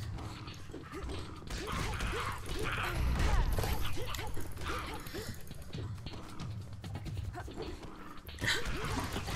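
A dog-like monster in a single-player PC game growls, snarls and whimpers through several seconds, amid thuds, clanks and impacts of combat.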